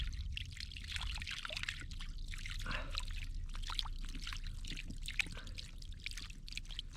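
Water trickles and pours in a hole dug in the ground, with a steady wet splashing that holds close and even throughout and has no speech over it.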